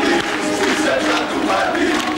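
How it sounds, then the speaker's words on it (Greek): A youth crowd of party supporters at a PASOK rally in Exarchia cheers and chants slogans, a dense, loud, continuous roar of many voices with no pauses. "έγινε δεκτός με χειροκροτήματα, συνθήματα και καπνογόνα"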